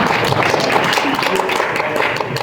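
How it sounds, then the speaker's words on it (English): Audience applause at a live show: dense, steady clapping that stays loud and continuous throughout, with no clear voices over it. "All right, one more time, round of applause."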